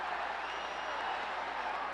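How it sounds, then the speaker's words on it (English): A packed arena crowd at a Bushido fight event cheers and applauds in a steady, dense roar of clapping and shouting. "The crowd is so loud."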